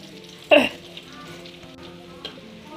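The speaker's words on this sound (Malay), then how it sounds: "Goreng ikan bilis sehingga garing ya." A burst of frying erupts as anchovies drop into hot oil, then settles into a quiet steady crackle with a faint clink later.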